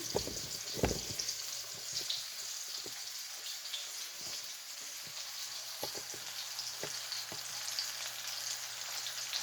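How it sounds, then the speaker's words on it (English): Cauliflower sizzles and crackles steadily in a hot pan, with occasional pops and light clinks over the constant frying hiss. "Okay, those are sizzling very nicely."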